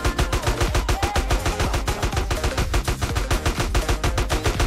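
Gunfire in GTA San Andreas rattles in rapid, evenly spaced automatic bursts, loud and close, with no talk over it.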